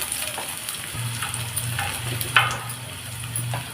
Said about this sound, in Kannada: ಚೆನ್ನಾಗಿ ಆಯಿಲಲ್ಲಿ ಆನಿಯನ್ನ ಫ್ರೈ ಮಾಡ್ಕೋಬೇಕು